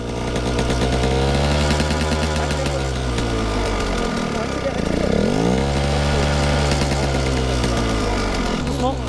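A motorcycle engine revving up and down continuously, loud and close, with a dip in pitch midway before climbing again, while a voice talks over it.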